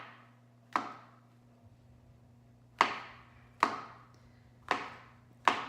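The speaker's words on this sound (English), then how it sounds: "And then cut them into quarters. You do it right on the cutting board" A knife chops mushrooms into quarters on a cutting board, five sharp, close knocks at irregular intervals, each ringing briefly before fading into a quiet background hum.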